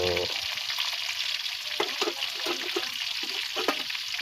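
Pork sizzles and crackles steadily in a hot pan, a loud, dense frying hiss with scattered pops and a few stirring scrapes, with no voices.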